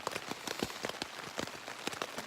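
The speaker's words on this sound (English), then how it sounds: "I'm just kind of laying here, waiting for the rain to stop." Raindrops patter on a tent while camping, a quiet close stream of irregular taps and soft hits over a faint steady wash of rain, with no voices.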